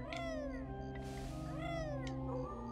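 A black cat meows in the video game Banjo Kazooie, giving a few clear, drawn-out, tuneful meows close up over a steady game background.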